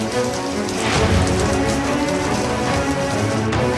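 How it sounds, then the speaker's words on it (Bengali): Heavy rain pours steadily during a storm with gusty wind over the district, a dense, continuous hiss of drops drumming on surfaces close by, no voices. "আর তারপরেই নামলো অঝোরে বৃষ্টি।"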